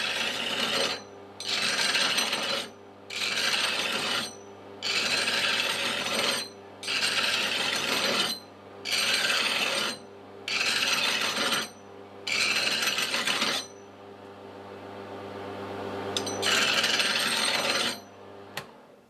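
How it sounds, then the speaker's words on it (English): A hand file rasps off welds on a stainless steel housing for a micro hydro Turgo turbine, in about nine steady back-and-forth strokes of roughly a second each, close and loud, followed by a longer continuous scrape. "just gonna file off those welds a bit"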